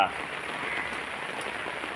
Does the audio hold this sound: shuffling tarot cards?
no